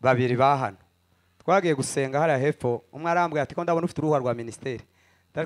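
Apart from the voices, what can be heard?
No distinct noise like a dog, phone or traffic.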